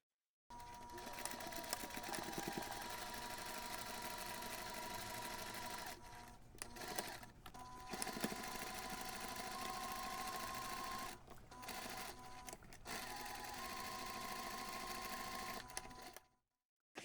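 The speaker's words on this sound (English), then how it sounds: "sew the pocket along this first stitching line" A sewing machine runs steadily, stitching a pen pocket onto a bag along its first seam line, with brief pauses for backstitching at the start and end before the motor hums on again.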